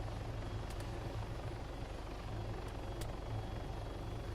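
Helicopter rotor wash in the video game Arma 3 gives a constant loud, close thudding rotor pulse over broad wind-like roar, with a few faint sharp ticks scattered through.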